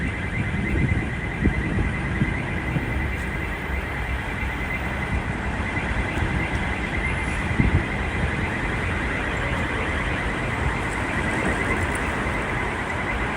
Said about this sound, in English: I hear alarm.